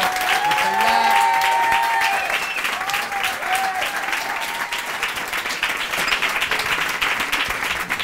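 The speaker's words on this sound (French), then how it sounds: "je vais vous demander maintenant de applaudir tous ceux qui ont fait le spectacle de ce soir" Audience applause for show performers at the end of an evening television talent show, loud continuous clapping with cheers and a whistle near the start, sustained the whole time.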